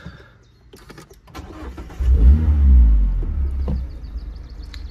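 A 2016 Mazda MX-5 ND with the 2.0 Skyactiv engine cranks briefly and catches, then settles into a loud, steady low rumble heard from inside the cabin, with a few clicks before the start.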